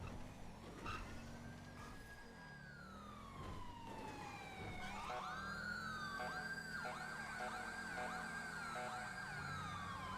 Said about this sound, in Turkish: Sireni kapat artık be adam be.